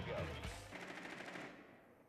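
Rainbow Six Siege SMG-12 submachine gun fire comes as a fast, continuous automatic burst, quiet and distant-sounding, fading toward the end of the short stretch.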